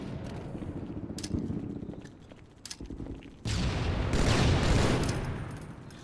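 Halo 2 combat brings bursts of rapid gunfire and sharp shots, then a loud grenade blast that swells into a sustained rumbling roar before fading.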